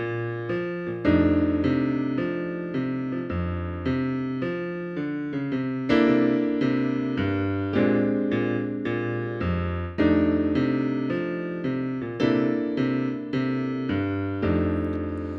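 Blues played on piano over a plain walking bass line in the left hand, steady beat-by-beat bass notes under chords and short right-hand figures, even and moderately loud throughout with no talking.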